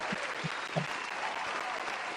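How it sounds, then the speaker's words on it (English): A continuous, even patter of applause, a dense clapping texture of steady level throughout, with a few low thumps near the start. "let me give you a round of applause here"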